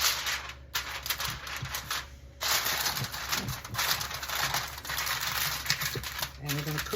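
Aluminum foil is crimped and pressed around the edges of a lasagna pan, giving close, dense crinkling and crackling with short pauses, under a background hum.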